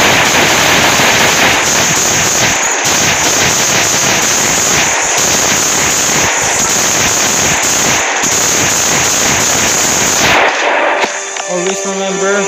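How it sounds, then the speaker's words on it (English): Rapid, loud pistol gunshots from the mobile survival game Last Day on Earth: Survival, dense and continuous for about ten seconds before cutting off abruptly into quieter background sound. "Just going to use my pistol."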